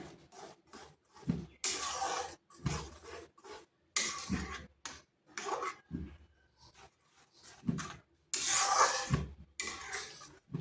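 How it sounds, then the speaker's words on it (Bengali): Semolina being stirred in a pan with a little refined oil over a low gas flame, a repeated scraping rasp in short strokes that come close and fairly loud with brief pauses between them. "আর এইভাবে কিন্তু অনবরত নাড়তে হবে, না হয় নিচে লেগে যাবে।"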